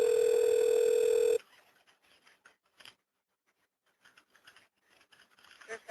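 A steady telephone dial tone sounds loudly for about a second during a fire emergency call transfer, then cuts off to faint rustling and quiet handling noises.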